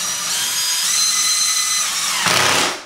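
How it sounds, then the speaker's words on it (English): A power drill drives screws through metal corner bead into drywall, a steady loud high whine running almost three seconds with a brief harsher burst near the end as the screw seats. "I'm driving screws through the edge of the corner, very close to the edge of the corner bead"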